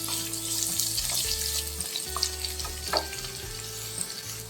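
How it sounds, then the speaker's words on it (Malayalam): Chopped garlic and onion sautéing in a pan for a carrot kozhukatta recipe, a steady oily sizzle with occasional stirring scrapes, close and moderately quiet, with no one talking. "വെളുത്തുള്ളി നന്നായി വഴറ്റി വരുന്നുണ്ട് അതിലേക്ക് സവാള ചേർത്ത് വഴറ്റാം"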